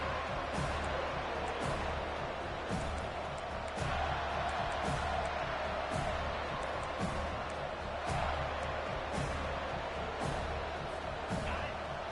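A packed stadium crowd at a college football game involving Florida State roars in a dense, constant wall of noise for the whole stretch, with a commentator's voice faintly beneath it.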